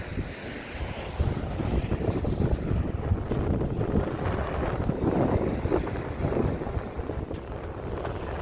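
Strong wind roars steadily into the microphone on the Odesa seashore, buffeting continuously over the rush of sea waves, with no voices.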